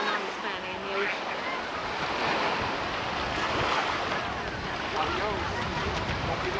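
Ocean waves break and wash on a beach in a steady, broad roar, with wind noise and faint voices mixed into the surf.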